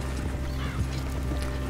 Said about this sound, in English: I always go quite slow with the wagons, just having the horse trot along instead of